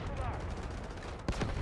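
Gunfire from the multiplayer shooter Delta Force, a dense continuous rattle of shots with a sharper burst near the end, loud and steady throughout.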